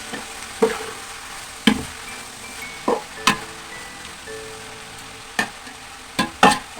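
Salted vegetables are stirred in a pan as they wilt: soft sizzling runs throughout, with sharp scraping clacks of the spoon against the pan at irregular intervals.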